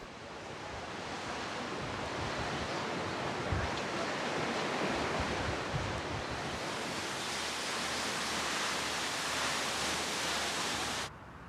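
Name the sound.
waterfalls falling into the sea on Korea's southwest coast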